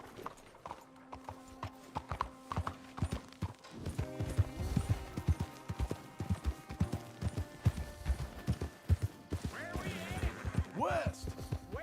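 Horse hooves clip-clop steadily at a walking pace in Red Dead Redemption 2, with in-game ambience, a low hum and a few tonal game sounds layered over the rhythmic hoofbeats; a voice speaks briefly.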